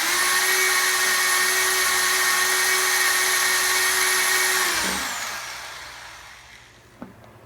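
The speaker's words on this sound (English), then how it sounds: "the base of the light is screwed into the roof, with the provided screws being careful not to strip them" A power screwdriver drives provided screws through a light base into a truck cab roof, one sustained whirring run that winds down, followed by a faint click.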